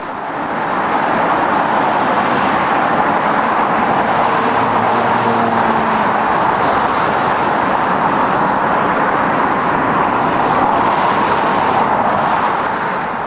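A London bus runs on a city street, a loud, dense engine and road roar that holds steady throughout, close and without pauses or voices.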